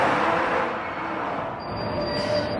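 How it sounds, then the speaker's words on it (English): Rumbling traffic noise from a car park next to an exhibition venue in Dubai, a loud, steady engine drone that swells and dips slightly, with a faint high whine near the end. "I apologize for the noises, but we've got a car park next door."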